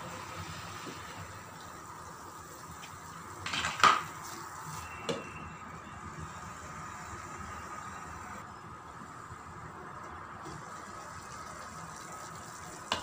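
A lid and pan are handled while rajma bean masala fries in a home kitchen: a couple of sharp metal clanks midway, including one louder clatter, over a low, quiet background hiss.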